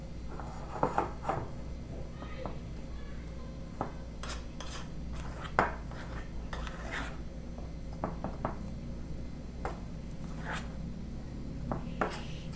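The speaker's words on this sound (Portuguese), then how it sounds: "Tentar misturar com a colher." A cheese and ham filling mixed with a spoon in a bowl, faint repeated scraping and soft clinks of metal against the dish over a low steady hum.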